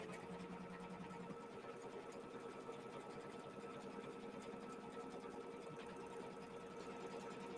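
Embroidery-style sewing machine quilting a kaleidoscope quilt in the hoop at a 3.0 stitch length, a steady, even mechanical whir running continuously and fairly quietly with no talk.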